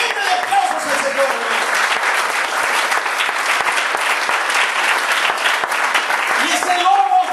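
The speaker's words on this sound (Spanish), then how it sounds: "ofrenda de aplausos al Señor" A church congregation breaks into loud, sustained applause offered as praise, a dense wash of many hands clapping close by for several seconds, with a voice briefly audible under it.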